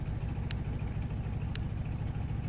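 Aircraft engine idles before shutdown in Microsoft Flight Simulator, a steady loud low rumble with two brief sharp clicks over it.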